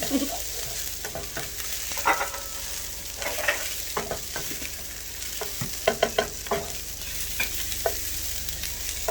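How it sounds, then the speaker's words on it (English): Potatoes with onions and bell peppers fry in a pan while being stirred, with a steady sizzle underneath and irregular scraping, clattering stir strokes throughout. "Stir everything together."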